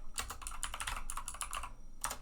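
Rapid keystrokes on a computer keyboard while entering text into Jupyter Notebook, a dense close-up patter of clicks with brief pauses and a final short burst, no talking.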